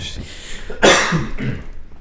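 A single sharp cough bursts out close by, followed by a brief rough clearing of the throat.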